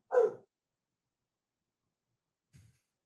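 A single sharp dog bark up close, followed after a long silence by a faint, low grunt or second short bark.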